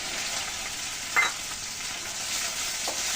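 A hilsa fish tail and green chillies fry in hot oil, giving a steady, even hiss of sizzling with a single brief clink partway through and a softer one near the end.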